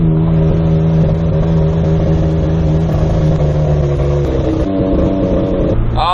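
A car engine strains and runs roughly while climbing a hill, its loud, steady uneven drone holding close throughout before the pitch shifts near the end; the engine is misfiring and not burning fuel properly.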